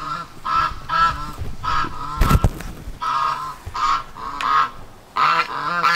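Several domestic geese, all hens, honk loudly and close by in repeated bursts of overlapping calls with brief pauses between them, with a short rustling clatter partway through.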